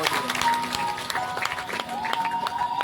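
An audience claps at a religious discourse gathering in Puri, a steady patter of hand claps mixed with a voice and faint tonal sounds in the background.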